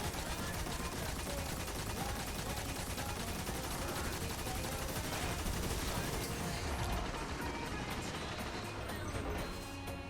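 Dense, continuous video game gunfire on legend difficulty, with rapid overlapping shots and crashing impacts blending into a loud, unbroken barrage.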